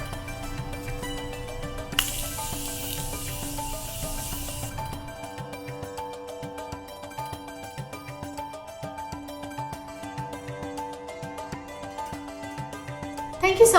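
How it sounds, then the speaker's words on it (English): Morphe Continuous Setting Mist is sprayed over a made-up face in one soft, airy hiss lasting a couple of seconds, set against quiet background music. "I'm gonna use Morphe's Continuing Setting Mist, and I'm just gonna put it all over my face"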